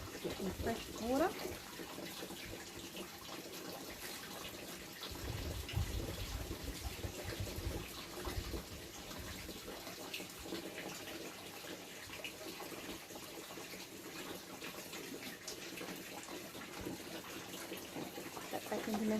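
Fresh water runs steadily from a tap for aquaponics water testing, a continuous splashing flow under quiet background sounds.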